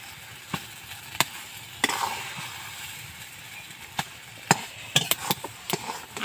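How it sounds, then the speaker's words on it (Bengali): Taro leaves are stirred as they dry in a pan on a stove: a soft background sizzle broken by sharp, irregular spatula scrapes and taps against the pan, close and fairly loud. "এবার আমি আস্তে আস্তে নেড়ে নেড়ে এটাকে শুকিয়ে নেব।"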